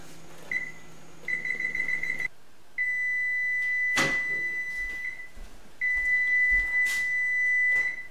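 A kitchen timer beeps repeatedly with a steady high-pitched electronic tone, in near-continuous bursts with brief gaps, loud and close over a faint background hum.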